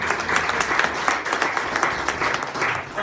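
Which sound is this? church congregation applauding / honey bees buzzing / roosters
church congregation applauding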